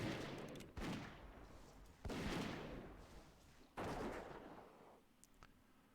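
Three loud, sharp gunshots from a hunter's gun in World of Warcraft Classic, fired at an evenly spaced rhythm, each with a lingering decaying tail, close and without talk.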